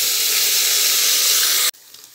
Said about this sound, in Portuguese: coloque o lagarto temperado a seu gosto na panela